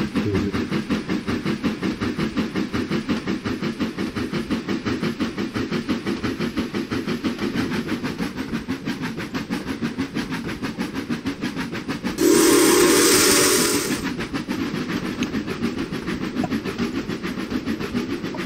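A loud, sustained steam train whistle in the train simulator game Trainz Railroad Simulator 2019 blows for about two seconds over a steady rhythmic chugging of a locomotive.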